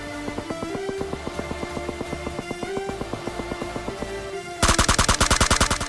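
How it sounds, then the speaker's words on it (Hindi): Rapid bursts of automatic gunfire in PUBG Mobile, a regular rattling string of shots that turns sharper and louder near the end, with no talk. "और बंदा ढूंढते ढूंढते बॉट फायर आता है"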